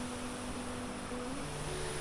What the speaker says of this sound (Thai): ตรงนี้เป็นน้ำตกน้ำตก น้ำตกธรรมชาตินะครับ